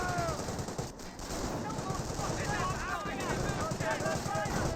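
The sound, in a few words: artillery barrage and gunfire in Company of Heroes video game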